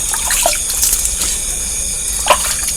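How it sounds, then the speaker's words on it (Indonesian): Clear spring water from a village spring flowing steadily and close, a continuous bright splashing rush with small gurgles and no voices. "Inilah mata airnya. Ini bening sekali airnya."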